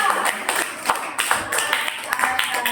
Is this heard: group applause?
yes